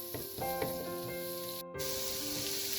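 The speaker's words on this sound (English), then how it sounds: "I'm going to add in ginger, garlic, and saute it till the raw smell goes" Ginger and garlic sautéing with onions in a pan for an eggplant curry, a steady soft sizzle running throughout at moderate volume with a brief dropout near the middle.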